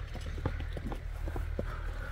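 A horse's hooves clip-clop in a quick, regular rhythm of sharp knocks, close and moderately loud, with no talking.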